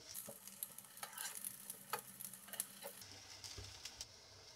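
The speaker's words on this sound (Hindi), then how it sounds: "और इसके चारों तरफ से थोड़ा थोड़ा घी डाल दें ताकि ये नीचे से भी अच्छे से फ्राई हो जाए" Tikkis frying in ghee in a pan give a soft, steady sizzle with scattered crackles and light spatula scrapes, close up and fairly quiet, with no talk.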